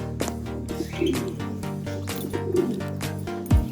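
Racing pigeons arriving at the loft after a club training flight give repeated soft, throaty coos in a rhythmic pattern, fairly close and continuous, with a brief bump near the end.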